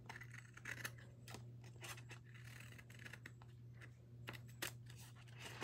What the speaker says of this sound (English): Let's cut off all of these extra pieces here.